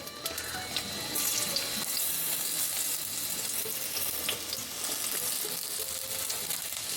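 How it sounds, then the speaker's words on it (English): Onions sauteing in oil in a home kitchen pan give a steady, close sizzle and crackle. The sound runs continuously with no talking over it. "And now they're sauteing."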